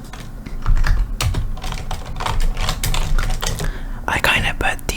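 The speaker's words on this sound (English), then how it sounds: "I'm going to start coding right now and typing noises begin" Close, steady clatter of computer keyboard keys typing JavaScript in an ASMR coding session, continuous with irregular bursts, under soft whispered talking.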